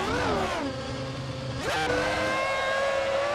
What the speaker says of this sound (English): the V10 power rushing through the Dacia Logan